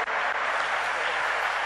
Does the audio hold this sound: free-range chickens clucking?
no